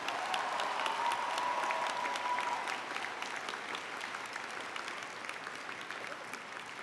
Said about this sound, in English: You may now applaud all of these outstanding students